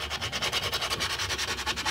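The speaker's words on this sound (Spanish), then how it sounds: "De ahí pasamos a lijar" A mototaxi brake shoe is sanded by hand, giving a steady run of rhythmic, scratchy rubbing strokes, about eight per second, close and clear with no talk over it.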